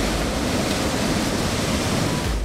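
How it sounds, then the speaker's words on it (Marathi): Foaming sea waves crash on a coastal shore, making a steady, dense roar of surf that fills the short stretch evenly with no pauses or voices. "फेसाळणाऱ्या लाटा,"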